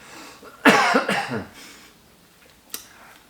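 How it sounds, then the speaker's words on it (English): A close, harsh bout of coughing, a few rough bursts in quick succession, followed by a quieter short cough. "as I'm coughing."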